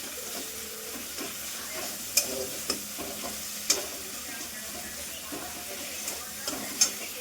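Fish frying in a pan for a mustard fish curry, with steady low sizzling and hiss and a few sharp clinks and scrapes of stirring at irregular intervals, heard close without talk.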